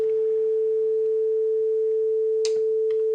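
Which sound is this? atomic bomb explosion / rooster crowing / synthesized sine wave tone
synthesized sine wave tone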